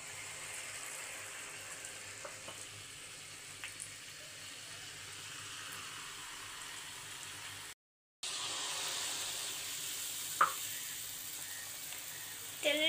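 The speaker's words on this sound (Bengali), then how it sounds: "এভাবে আমরা এক এক করে সব পিঠাগুলো ভেজে নিব।" Bangladeshi sugar oil pitha fry in hot oil with a faint, steady crackling sizzle and a few soft clicks, interrupted by a brief silent gap.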